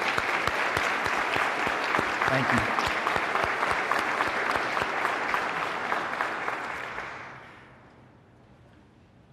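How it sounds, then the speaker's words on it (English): An audience at a 9/11 remembrance event gives a long, loud round of applause for veterans and emergency service providers. The clapping stays dense and steady, then fades away near the end, and a voice speaks briefly over it. "Let's give these men and women a round of applause."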